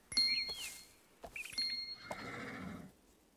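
Two cartoonish horse whinnies from the Barbie Dreamhouse Adventures video game, each a bright rising-and-falling neigh with chime-like accents, followed by a sustained softer nicker or snort that fades out.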